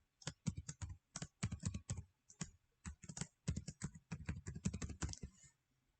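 A username and password are typed on a computer keyboard, with a quick rhythmic run of close, crisp key clicks in short bursts and brief pauses, no voices.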